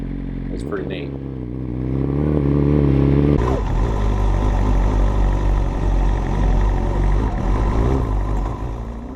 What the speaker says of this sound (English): So this is the first time the bike's been on the CSBK dyno.